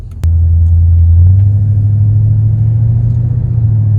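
A Mercedes E230 converted to E55 AMG spec drives with a steady, loud low engine drone and rumble, beginning with a sharp onset and holding a smooth, even tone that rises slightly in pitch as it gathers speed.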